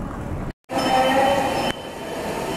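A JR train rumbles through a railway station in Oita, Japan, loud and close with a steady roar, a brief sharp cut, then sustained wheel noise and a faint squeal before settling into a lower hum.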